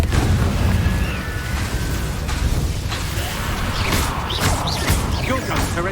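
Confringo fire spell blast in Hogwarts Legacy, a loud rumbling burst of explosive impact and crackling debris during a wizard duel, dense and close throughout.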